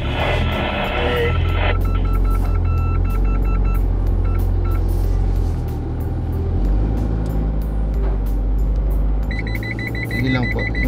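A 2024 Isuzu D-MAX climbing a 4x4 course in Davao sounds repeated electronic parking-sensor beeps in bursts at the start and near the end, over a loud engine rumble.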